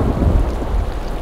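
Rain falls through a sunset scene in the Bus Driver video game, a dense wash of steady rainfall with a low, rolling rumble of thunder underneath, short and with nobody speaking.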